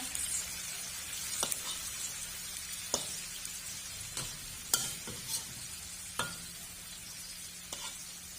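Fish simmering in chu chee curry in a pan, a steady soft bubbling hiss broken by scattered brief pops and ticks, close and fairly quiet, with no talking.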